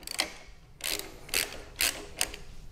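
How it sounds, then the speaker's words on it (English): Loosening the handlebar clamp bolts on a Harley-Davidson Road Glide produces four or five short ratchet-like clicking bursts, spaced about half a second apart and fairly close to the mic. "I'm actually gonna loosen these bolts just a little bit more"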